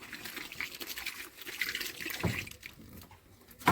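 Water splashed from a container onto homemade compound cattle feed at a farm, a hissing, spattering wash of liquid that runs steadily for a few seconds at close range with no talking.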